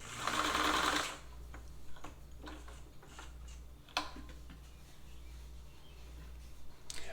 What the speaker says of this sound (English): the material I'm sewing is a sort of a medium heavyweight cotton. It's part of a sort of it's like a cotton duck from a pair of khaki pants